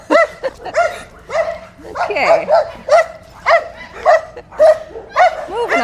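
A dog barks excitedly in a rapid series of loud, close yips and barks with some whimpering mixed in, while a person briefly speaks over it.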